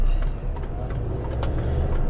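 A car rolls along a road by a roundabout in Yorkshire, heard from inside a waiting truck cab as a steady low engine and tyre rumble with a few soft passing swishes, no talk.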